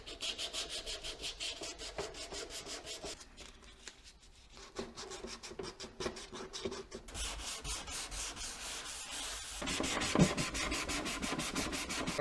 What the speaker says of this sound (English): I am using a what's called a block, sponge block, I guess, for sanding.